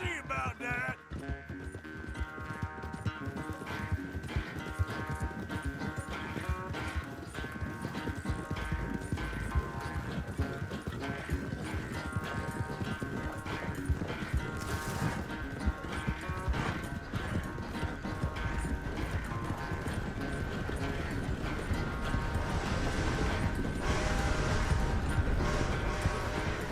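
Horse hooves gallop in a fast, continuous clip-clop rhythm through Red Dead Redemption 2, heard close and steady for nearly half a minute beneath a layer of music and ambient game sound.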